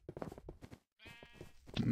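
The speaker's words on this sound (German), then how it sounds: "Ein Schaf, haben Sie es gesehen?" Sheep in the video game Minecraft bleat in a short wavering cry, heard between bursts of German speech from nearby talkers.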